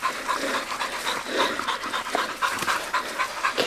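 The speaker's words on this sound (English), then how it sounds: "Good dogs, good dogs." Several dogs pant rapidly and close by after a hunt far back in the mountains in Hawaii, a steady breathy rhythm that runs throughout, with a faint whimper now and then and no talk.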